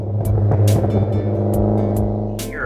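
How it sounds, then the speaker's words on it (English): A Saab 900 Turbo's deep exhaust burble rumbles steadily and close, with a low throaty drone and occasional sharper pops over the top. "that exhaust noise in the back, that Saab burble is amazing"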